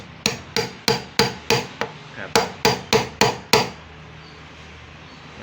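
Ten steady hammer blows strike metal in an even rhythm, close and sharp, then stop, leaving quiet room noise.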